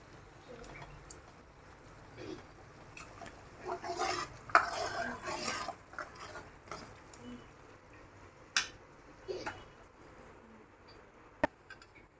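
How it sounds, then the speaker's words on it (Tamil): A spoon scrapes and clinks gently inside a pot of tomato sambar in scattered strokes, fairly quiet, with soft bubbling and occasional sharper taps. "இப்போ நம்ம இந்த மல்லித்தலையை போட்டுட்டு நல்லா கலக்கி விட்டுட்டு"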